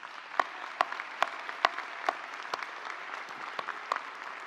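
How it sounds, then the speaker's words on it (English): An audience at a university graduate commencement claps in a thin, rhythmic patter of distinct claps in a large hall, fairly faint and without voices. "well-deserved round of applause."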